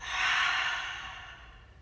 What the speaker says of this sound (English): Deep breath in through your nose. Exhale it out your mouth.